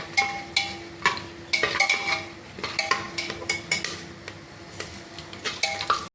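A spoon repeatedly clanks and scrapes against a metal pot while cardamom, black peppercorns and cinnamon leaves are stirred for chicken biryani, producing irregular close metallic knocks over a faint steady hum.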